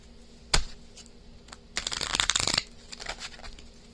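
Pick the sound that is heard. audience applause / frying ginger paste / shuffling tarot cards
shuffling tarot cards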